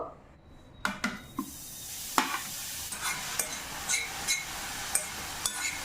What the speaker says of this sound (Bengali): কড়াইটা গরম হয়ে গেছে এবার গাজরটা দিয়ে দেবো